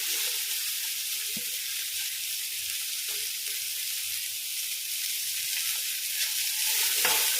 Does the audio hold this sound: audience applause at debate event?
no